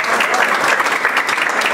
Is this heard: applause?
yes